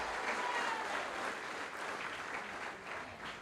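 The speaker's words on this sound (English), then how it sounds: "why don't we give the both school a big round of applause?" Applause for both schools at a high school debate, a broad wash of many clapping hands, fairly faint and distant, fading slightly toward the end.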